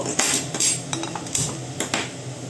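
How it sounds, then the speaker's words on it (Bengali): A metal tawa griddle is set down on a gas stove in a home kitchen, giving several sharp metallic clanks and scrapes at close range. "এখন আমি ওভেনে তাওয়াটা বসিয়ে দেব, গ্যাসটা অন করে দেব।"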